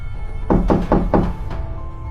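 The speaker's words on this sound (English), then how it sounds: "the knocking was not at my front door, but rather at my bedroom door" Five knocks on a bedroom door, close and heavy, the first four in an even quick rhythm and a slightly softer fifth after a short pause, in a quiet room.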